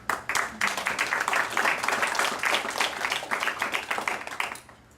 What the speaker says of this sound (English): love the applause after every poem.